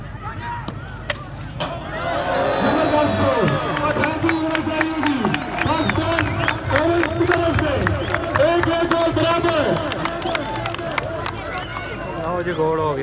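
A crowd at an international field hockey tournament in Pirmahal claps and cheers loudly and continuously, with dense rapid hand claps over a roar of voices, while an announcer talks over a loudspeaker.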